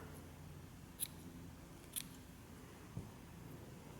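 Scissors snipping yarn tails short after they are knotted on a crocheted Easter egg cover; three quiet, crisp single snips about a second apart, close by in a still room.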